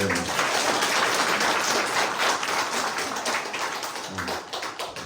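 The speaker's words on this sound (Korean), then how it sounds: "박수로서 우리 장로님 격려해 드릴까요?" A church congregation at a Sunday morning service applauds an elder with dense, steady clapping that fills the room, easing off slightly near the end.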